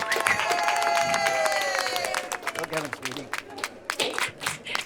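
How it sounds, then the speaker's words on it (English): Las Vegas comedy club crowd applauding and cheering as a comedian walks on, with music and a voice at first, then the clapping thins into scattered claps. "bring her to the stage with a big round of applause, Miss Linda Lou"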